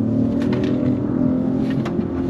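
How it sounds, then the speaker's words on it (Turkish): A new Opel Mokka with a three-cylinder engine, held in sport mode, gives a steady, close, low engine drone with a slight rise and fall in pitch, and no voices over it. "Hemen spor modumuza biraz ses de duyalım. 3 silindirli, 3 silindirli bir motor var."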